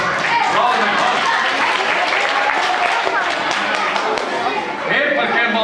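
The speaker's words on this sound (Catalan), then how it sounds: "Poden aplaudir aquí." An audience applauds at an award ceremony, with a dense burst of clapping that carries on throughout, and crowd chatter and voices mixed in.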